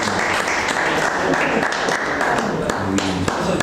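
Loud, close applause from an audience, a thick continuous patter of many hands lasting a few seconds, with faint voices and a low tone underneath.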